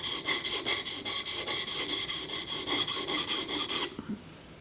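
A woodworking chisel is sharpened by rubbing it back and forth across an abrasive surface, making about fifteen even rasping strokes in a steady rhythm, loud and close, before it stops abruptly.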